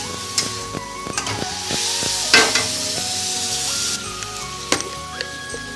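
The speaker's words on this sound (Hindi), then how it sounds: "टमाटो दे भल भाव फ्राए करिया हमें" Tomatoes sizzle steadily in a hot pan for a homemade Odia mushroom curry, with scraping and clinking from stirring and a few sharper pops over the continuous frying hiss; no voices.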